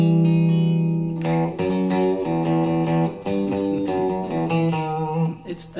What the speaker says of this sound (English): It's the James Bond spy movie chord.